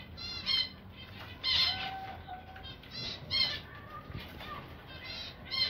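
Young Pakistani chicks, eight newly out of the nest, give short bursts of high squawking chirps mixed with soft wing flapping, close by over a faint background.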